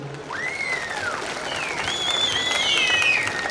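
A crowd at an outdoor lamb-shearing festival in Beytüşşebap applauds, a soft steady patter of clapping with high, sliding whistle-like tones rising over it toward the end.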